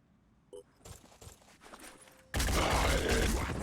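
Gunfire rings out in the tactical video game Phoenix Point: a few quiet clicks and shuffles, then a sudden, loud sustained burst of shots that fills the rest of the moment.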